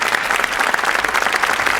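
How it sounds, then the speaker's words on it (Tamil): An audience claps for actress Latha at a career tribute event, steady and dense, a crowd's loud applause sustained throughout. "அதுக்கு நீங்கள் கைத்தட்டு பலமாக இருந்தால் ரொம்ப சந்தோஷமாக இருக்கும்."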